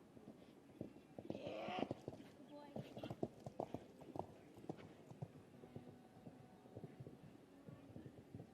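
Clip-clop of show jumping horse hooves at a 1.20m junior event, repeated thuds in an uneven rhythm under a commentator's voice, with a brief whinny-like burst near the start.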